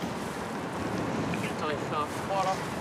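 Icy wind blowing through a Paris street, a steady broadband roar with microphone buffeting that rises slightly near the end, with faint tonal sounds and a little background speech under it.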